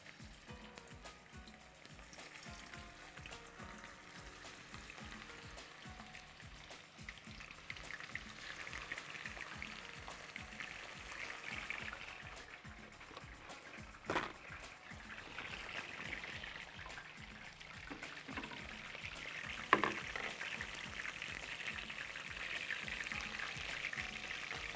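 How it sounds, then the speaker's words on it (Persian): Food frying in oil gives a steady, close sizzle with dense crackling and a few sharper pops, running on its own without any talk. "روغن سرخ شده و روغن اضافه میکنم."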